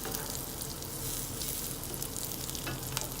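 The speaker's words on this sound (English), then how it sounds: "you want to go ahead and soften up your vegetables" Vegetables sautéing in a pan for a grilled pork keto burrito bowl, a steady close sizzle with soft hissing and light stirring scrapes, picking up the seasoning left by pork chops.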